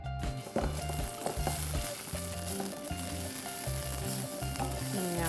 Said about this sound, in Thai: ใส่น้ำมันนะคะ อุ้ยหอมมากแล้วก็ผัดพริกแกงค่ะ